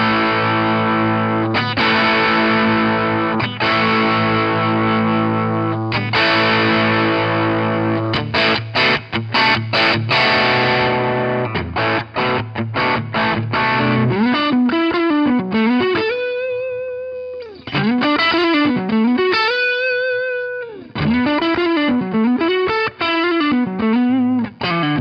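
Distorted electric guitar lead through a Boss Katana digital amp, starting with sustained chords and stabs, then moving into bending, vibrato-laden single-note phrases, loud and close throughout with no talking.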